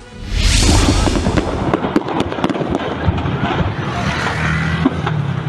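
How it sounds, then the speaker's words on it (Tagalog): Rapid, continuous crackling and popping of fireworks exploding in a burning fireworks warehouse at a distance, with sharp bangs standing out over a dense roar. "rinig na rinig ang pagsabog mula sa nasusunog na bodega ng paputok"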